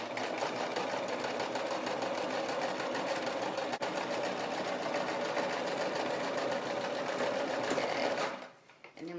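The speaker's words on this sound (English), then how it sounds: "And then we're going to gently sew using our pedal," A sewing machine driven gently by its pedal runs a steady, even whirring stitch along a baby romper seam, close and continuous, then stops abruptly just before the end.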